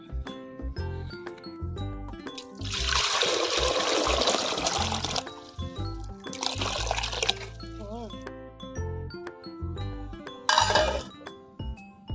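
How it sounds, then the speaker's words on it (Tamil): A pot of pearl millet (kambu) bubbles and boils, with bursts of hissing, gurgling steam rising among light clinks of utensils and background music. "நல்லா கொதிச்சிருச்சு பாட்டி"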